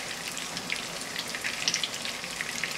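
Spaghetti puttanesca sauce being stirred in a hot pan, a steady close sizzle and fry with soft scattered pops and liquid spatters throughout, no talk.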